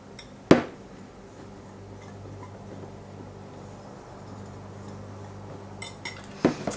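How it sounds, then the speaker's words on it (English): Steak seasoning mixed in a bowl, a sharp utensil clink against the bowl at the start, a quiet stretch of faint stirring, then a few more light clinks near the end. "So I'm just going to mix it all together."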